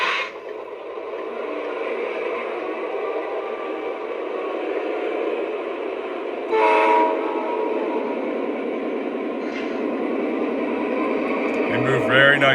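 Three model SD40 locomotives from Lionel, MTH and Atlas start up and run together, giving a steady, fairly loud rail rumble and motor hum through the whole stretch, with a short horn-like burst near the middle and talk over it.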